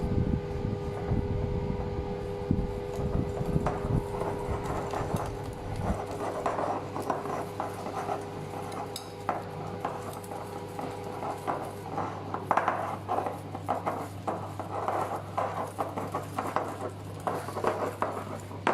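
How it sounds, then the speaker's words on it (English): Whisk beaten in a bowl to make a paste for cream puff pastry cream, a continuous scraping and clattering rhythm against the bowl with a steady background hum, close up. "we just whisk this to make a paste"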